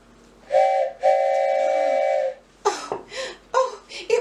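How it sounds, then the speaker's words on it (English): A train whistle sounds in an audio drama as two long, bright steam-whistle blasts, the second held for over a second, followed by voices. "from far side of the trestle, I heard a whistle. No, a train whistle."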